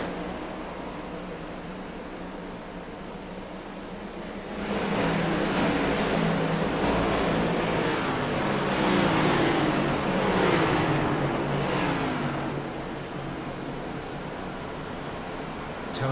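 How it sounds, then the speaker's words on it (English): Stock cars from iRacing lap traffic at World Wide Technology Raceway swell past close in the foreground, a broad engine and tyre roar rising after a steady background drone, holding for several seconds, then easing back. "You can hear the lap traffic there in the foreground"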